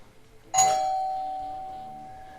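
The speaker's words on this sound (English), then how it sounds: "Doorbell rings" A single bright doorbell chime strikes and rings out, its tone lingering and slowly fading over a couple of seconds in a quiet room.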